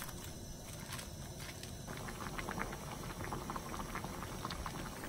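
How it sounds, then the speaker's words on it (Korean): Napa cabbage blanching in a pot of boiling water, a soft continuous bubbling and patter that grows slightly busier partway through, low in level and close. "끓는 물에 배추를 넣고 데쳐줄 거예요."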